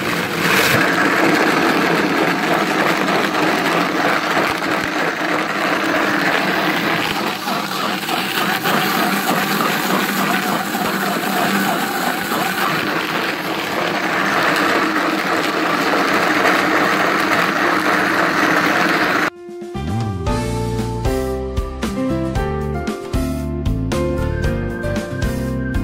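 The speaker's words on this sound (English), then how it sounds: "This is a high-speed blender. So I can kick it up a notch." A Vitamix high-speed blender whirs steadily while blending Irish sea moss gel, a loud dense motor roar sustained for most of the stretch before cutting off abruptly near the end, leaving quieter changing tonal sound.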